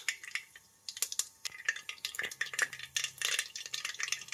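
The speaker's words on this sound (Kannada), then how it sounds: "ಸಾಸಿವೆ ಹಾಕ್ತಾ ಇದ್ದೀನಿ. ಸಾಸಿವೆ ಒಂದು ಸ್ವಲ್ಪ ಸಿಡಿಲಿ." Mustard seeds spluttering in hot oil in a cooker give off a rapid, irregular series of sharp crackles and pops, close and bright over a soft sizzling hiss, with no talking.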